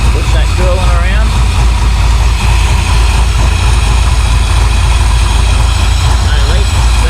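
A Holden VL Calais engine fitted with a Harrop 2300 supercharger idles while warming up, a loud, steady low rumble with constant mechanical whine. A voice talks over it.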